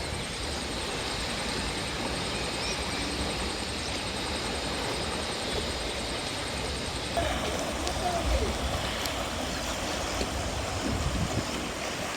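The Krishna river flows at the Satara confluence ghat, a steady, broad rushing wash of water that continues without a break and swells slightly partway through.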